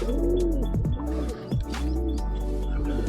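Pigeons cooing close by, several repeated rolling coos in steady succession, with faint chirps and light background noise.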